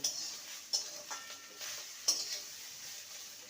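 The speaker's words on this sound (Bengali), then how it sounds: "সয়াবিনটাকে ছেড়ে দেবো দু মিনিট সয়াবিনটাকে ভেজে নেব" Soya chunks frying in a pan make a quiet, even sizzle close by, with a few sharp clicks and taps of a spatula against the metal.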